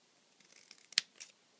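Fringe scissors snip through Coastal Cabana cardstock in a quiet run of small cuts, ending with two sharper, crisp snips close to the microphone.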